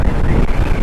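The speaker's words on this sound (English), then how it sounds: "this wind, it's gonna pee it down, guys" Strong wind buffets the microphone outdoors near a mountain during a motorcycle tour in Naga City, Philippines, a loud, steady roar with low rumbling gusts and no pauses.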